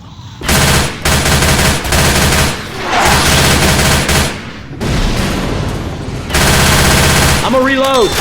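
Rapid automatic gunfire in a zombie shooting video game, loud sustained bursts separated by brief pauses, closing with a short warbling electronic tone.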